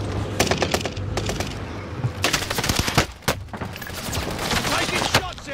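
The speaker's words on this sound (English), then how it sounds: "Taking shots here." Rapid automatic gunfire from the Warzone video game crackles in dense bursts with sharp single shots between, loud and close throughout, over a low game rumble.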